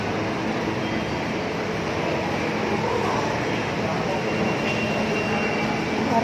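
Riding an LRT light rail train in the Philippines, a steady broadband rumble and rolling rail noise fills the cabin throughout, with people talking faintly underneath.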